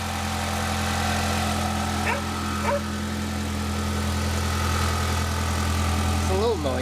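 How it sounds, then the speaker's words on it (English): A 1973 MG Midget engine idles steadily with a low, constant hum and faint ticking lifter noise, close and continuous, while a voice briefly comes through near the end. "It's a little bit of lifter noise on it."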